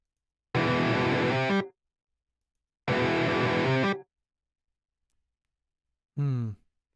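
Programmed metal guitar with heavy distortion plays three short bursts of chugging chords, each about a second long, separated by silence, the last one shorter.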